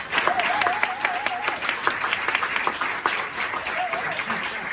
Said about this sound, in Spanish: les pido un aplauso inicial para Gonzalo Magliano, el autor.